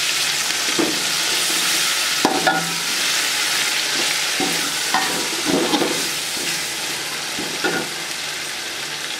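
Tomatoes frying in a pan for aloo pulao, with a loud, dense, steady hiss of sizzling and a few soft knocks and scrapes from stirring, all close up.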